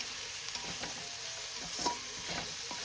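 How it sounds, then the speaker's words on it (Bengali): Gobindobhog rice frying with spices in a pan for muri ghonto gives a steady, close sizzle, broken by regular scraping strokes of a stirring spoon. "এবার এই চালটাকেও মশলার সাথে ভেজে নেব"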